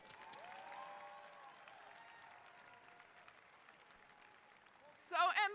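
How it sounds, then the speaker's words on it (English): Audience applause at the Capital Community College 2023 commencement, a broad wash of clapping that gradually thins and fades, followed by a short burst of loud voice at the end. "Let us clap and say thank you."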